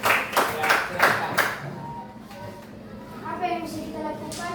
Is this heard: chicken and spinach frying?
no